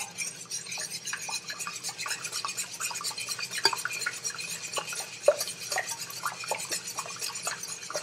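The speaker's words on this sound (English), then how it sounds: "Now I'm going to take a wire whisk." A wire whisk beats eggs in a bowl for flan, producing quick repeated light clicks and taps against the bowl in a brisk, steady rhythm, close up and without speech.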